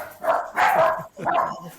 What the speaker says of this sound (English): It wouldn't be an SOG episode if there wasn't a dog barking in the background.